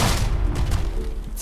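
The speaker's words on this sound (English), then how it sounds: "I hear cannons from over that direction." Cannons firing in the pirate naval video game Unearned Bounty: a brief stretch of heavy, booming low rumble with muffled thumps, sounding distant and continuous.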